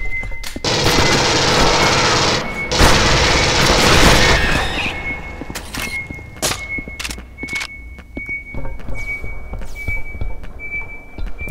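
Automatic rifle fire in an Aliens vs Predator multiplayer match with marines, long loud sustained bursts up front, then scattered shots, thuds and footsteps with a high electronic tone beneath.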